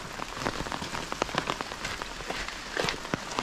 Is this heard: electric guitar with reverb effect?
no